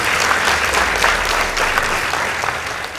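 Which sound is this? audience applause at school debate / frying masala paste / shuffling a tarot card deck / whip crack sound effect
audience applause at school debate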